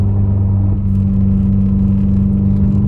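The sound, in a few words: Subaru WRX FA20DIT engine revving under hard acceleration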